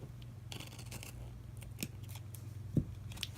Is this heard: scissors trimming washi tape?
yes